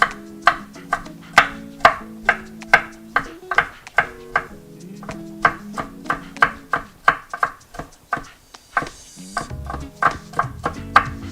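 A knife chops lemongrass chicken vermicelli ingredients on a cutting board in a home kitchen. The strikes are close, crisp and rapid, with about twenty hits in an even rhythm and a brief pause near the end, while background music plays underneath.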